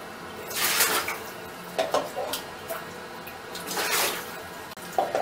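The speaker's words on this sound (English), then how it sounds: "I'm going to scoop that out with this cup and pour it into my bucket" A cup scoops water out of a toilet bowl and pours it into a bucket, making a few separate sloshing, splashing pours with small clinks between them.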